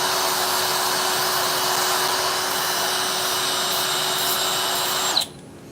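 A power tool grinds a burr off a pipe edge with a constant close, buzzing whine for about five seconds, then cuts off and winds down quickly.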